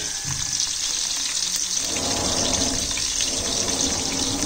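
Onion sizzling in hot oil in a pan for fenugreek leaf dal, a steady close crackle and hiss that grows fuller and louder about halfway through.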